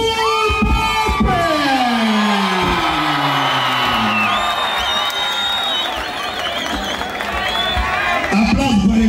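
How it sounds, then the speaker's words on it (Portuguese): A live audience at a stand-up comedy show in Angola cheers, whoops and applauds as a comedian is welcomed onstage, a loud continuous crowd roar with an announcer's voice over it. "Por favor, família, receba nesse palco com os vossos aplausos, Arthur Pop!"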